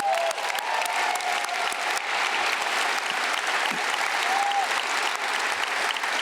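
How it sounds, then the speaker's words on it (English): Sustained applause for legislators fills a large hall at a Utah state leadership event, steady and dense clapping from a sizable crowd throughout. "join me in giving our legislators a round of applause"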